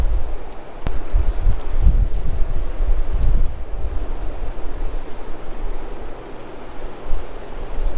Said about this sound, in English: that wind is whipping through right here.